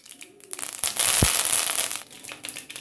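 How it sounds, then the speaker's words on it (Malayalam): Mustard seeds dropped into hot coconut oil for an egg curry, giving a sudden burst of crackling and spluttering that swells, holds loud for about a second, then eases into scattered pops. "ഈ വെളിച്ചെണ്ണ ചൂടാകുമ്പോൾ ഇതിലോട്ട് 1 ടീസ്പൂൺ കടുക് ഇട്ട് കൊടുക്കണം"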